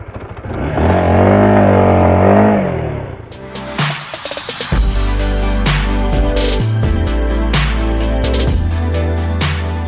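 A Honda Supra GTR 150 underbone motorcycle, with the same 150 cc engine as the CB150R, revs under way. A sustained buzzing drone climbs and dips through gear changes, then settles into a close, loud, rough engine note.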